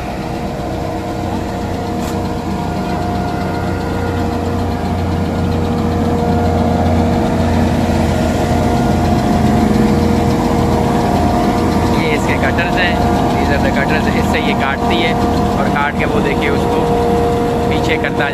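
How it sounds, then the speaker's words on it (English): A silage harvester cuts a standing crop with a tractor nearby, its engine droning steadily in a low, even hum that grows a little louder partway through, while a voice talks over the machinery. "It's cutting the crop for silage preparation."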